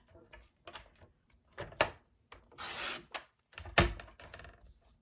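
Pattern paper being cut into strips for fold cards, with scattered rasping, rubbing strokes and a few sharp clicks of the cutter, close and fairly loud, in short bursts separated by quiet.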